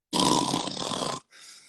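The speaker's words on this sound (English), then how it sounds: "My puppy is literally snoring" A puppy snoring in a single long, rough breath lasting about a second, close and fairly loud, followed by a fainter, shorter exhale.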